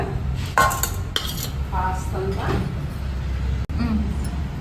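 A spoon clinks against a bowl as packaged curd is scooped in for a fenugreek hair mask, a few sharp metallic taps and scrapes close up, with a person talking throughout.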